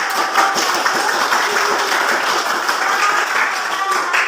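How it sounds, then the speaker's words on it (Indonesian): Classroom audience applauding a group after its discussion presentation, a dense, steady wash of many hands clapping at once that holds evenly from start to finish with no talk over it. "tepuk tangan untuk"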